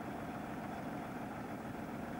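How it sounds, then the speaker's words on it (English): A lifeboat engine runs at a steady idle, a continuous low rumbling drone with even vibration and no variation in level, heard alone without voices. "The engine of the lifeboat is started, and the lifeboat is maneuvered for a period of at least 4 hours."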